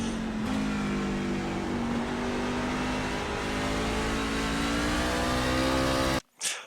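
Race car engine on a lap of Watkins Glen, held loud and close at high revs with steady rising harmonics through a third- or second-gear corner, then cutting off abruptly near the end before briefly returning.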